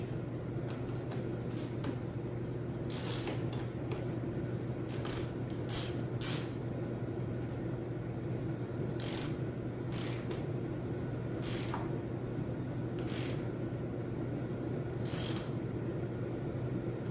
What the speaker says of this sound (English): 10mm wrench.